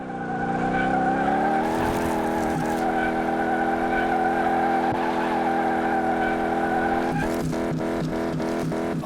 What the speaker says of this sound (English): Look, it's just wheel spinning.